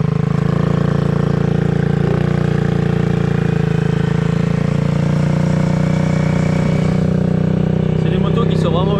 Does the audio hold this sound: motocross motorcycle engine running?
yes